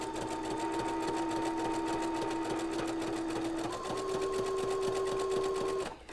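A sewing machine fitted with a tape stitching foot runs a steady zigzag stitch, its rapid even needle clatter and motor hum continuing loud and close for nearly the whole stretch before stopping.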